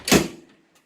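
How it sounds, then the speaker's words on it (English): The manual door of a 1999 Blue Bird Freightliner FS65 bus gives a single short, close clunk that dies away quickly. "it's got a manual door"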